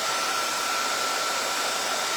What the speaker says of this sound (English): I'm going to hit this with a dryer.